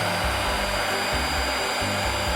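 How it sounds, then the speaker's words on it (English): Vacuum cleaner running, a loud, steady broadband roar with a low motor drone and slight rhythmic pulsing underneath, continuous for a couple of seconds with no other sounds. "It's a vacuum cleaner."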